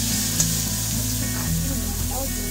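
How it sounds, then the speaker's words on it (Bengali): Spice paste frying and sizzling in oil in a pan over a wood-fired clay stove, a steady close crackling hiss with occasional stirring scrapes, no talk. "যতক্ষণ পর্যন্ত তেল না ছাড়বে ততক্ষণ কিন্তু মশলাটা এভাবেই কষাতে থাকবে।"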